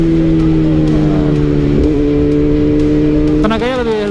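A Kawasaki sport motorcycle, ZX636 or ZX10R, idles loud and close with a steady deep engine drone, then the throttle opens near the end and the pitch climbs in a quick rising rev.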